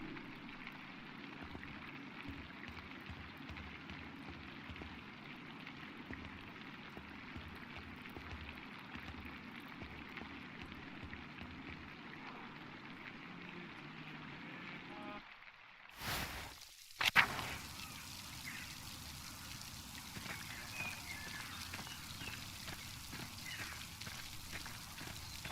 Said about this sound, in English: You can hear the rain on the windows outside.